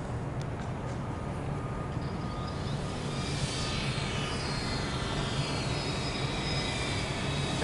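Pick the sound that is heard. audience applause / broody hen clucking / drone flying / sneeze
drone flying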